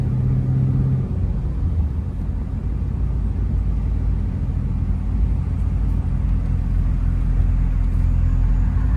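A 2002 Chevrolet Camaro Z/28 with an automatic transmission is driven on the road, its engine giving a steady, deep rumble with low whirring drone throughout, heard from inside, constant and fairly loud with no speech.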